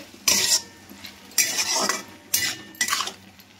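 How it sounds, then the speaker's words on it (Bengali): A spoon scrapes and stirs garam masala through a bottle gourd and prawn curry in a pan, four distinct scraping strokes with metallic clinks, close and clear with no talk. "এবার আবারও সব একসঙ্গে ভালো করে মিশিয়ে নেব"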